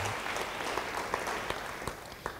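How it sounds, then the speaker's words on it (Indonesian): A church congregation applauds during a sermon, a dense spatter of clapping at moderate volume with a few sharper claps standing out. "Yang percaya beri tepuk tangan bagi dia."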